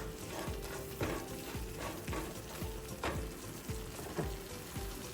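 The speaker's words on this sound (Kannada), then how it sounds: "ಇದೆಲ್ಲ ಹಾಕ್ಕೊಂಡು ಚೆನ್ನಾಗಿ ಫ್ರೈ ಮಾಡ್ಕೊಳ್ಳಿ ಫ್ರೈ ಮಾಡೋದ್ರಿಂದ ತುಂಬ ಟೇಸ್ಟಿಯಾಗಿರುತ್ತೆ ಸಾರು" Spices and coriander powder frying in a pan for horse gram saaru, a steady close sizzle with regular scraping stirs about twice a second, with no voices.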